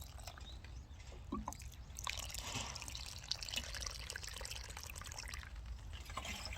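Water drains and trickles steadily from a soaked tray of apple watermelon seedlings, a soft continuous wash with faint drips and no talking.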